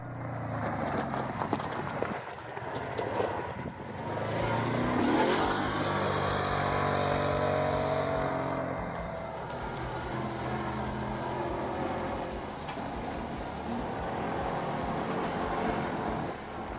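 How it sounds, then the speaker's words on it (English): A Kawasaki off-road vehicle drives along dusty open trails toward Vulture Peak, its engine droning steadily and close with rough, bumpy rattling and shifting revs throughout, no talking. "we take our Kawasaki down some dusty open trails"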